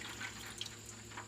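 Warm naturally dyed ironweed liquid poured through a strainer into a foil roasting pan, a soft continuous trickle with light drips and splashes, close and fairly quiet.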